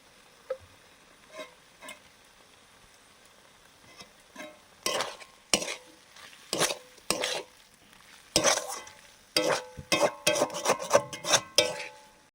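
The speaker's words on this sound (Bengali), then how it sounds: "বাকি আছে শুধু কলা ভাজা কলা ভাজাটা হচ্ছে" Raw green banana slices frying in a pan for a home Bengali lunch, heard as bursts of sizzling and scraping stirring, sparse at first then dense and rhythmic, close and fairly loud with no talk.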